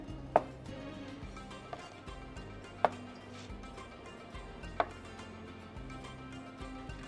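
A knife trims the edges of food on a cutting board, giving a few faint, sparse knocks and light ticks spaced seconds apart in a quiet kitchen.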